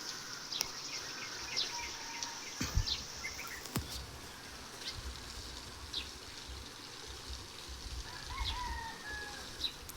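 Birds call around an outdoor resort: scattered short chirps and whistles, fairly faint, over a low background hiss with a few soft knocks.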